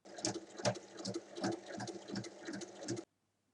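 A sewing machine stitching the lining of a small checkered bag along three sides, a rapid rhythmic mechanical patter running close and steady for about three seconds before stopping, with no speech.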